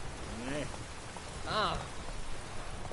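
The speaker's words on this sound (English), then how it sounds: "This rain is like weird in this game." Steady rain hiss in The Witcher 3: Wild Hunt fills the background under a voice speaking in short bursts, moderately loud and continuous throughout.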